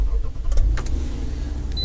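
Power window motor in a 2009 Toyota RAV4 Limited whirring briefly inside the car, a steady low hum with a couple of faint clicks, close and moderately loud, with no talk.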